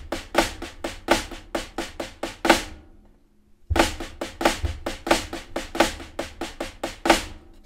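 A drum sticking pattern played with flam accents in a dotted eighth rhythm, crisp close strokes in a driving repeated figure, pausing briefly mid-way before resuming at the same pace; no talking.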